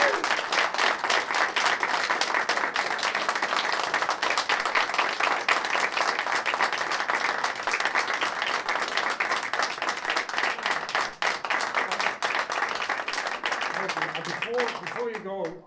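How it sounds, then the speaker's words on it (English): Audience applause for the actors at a short play reading showcase during an arts festival, dense sustained clapping from a crowd filling the room for about fifteen seconds before tapering off as a voice begins to speak. "Would you please give a round of applause for Pat Nolan, Colin Tyrrell, Jack Matthews, and Ashley."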